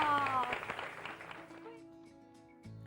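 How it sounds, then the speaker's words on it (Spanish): Audience applause for the children on a Spanish-language show breaks out loudly at the start, then thins and fades within about a second and a half, leaving sustained tones and a faint voice behind it. "un aplauso, ahora sí, fuerte, fuerte, fuerte para todos los chicos"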